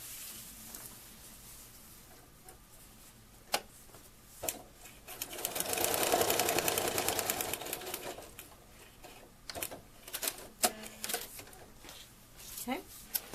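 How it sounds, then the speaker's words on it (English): A sewing machine stitches a quilt block in a sustained whirring run of a couple of seconds, preceded and followed by scattered clicks and handling taps, with someone talking quietly. "Let's sew that."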